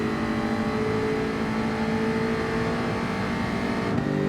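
A Mazda race car in Gran Turismo 7 accelerates hard, its engine holding a loud, steady high-revving drone through the whole stretch, with a brief shift in tone near the end.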